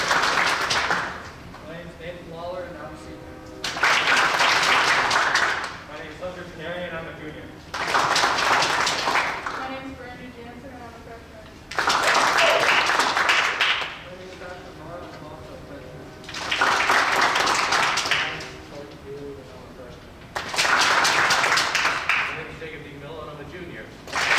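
Brief rounds of applause from a high school holiday vocal music concert audience, recurring in about five separate bursts with spoken introductions from individual voices in between.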